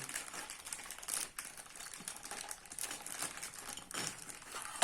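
A plastic bag being emptied, with steady close crinkling and rustling throughout, swelling into a few louder crackling bursts.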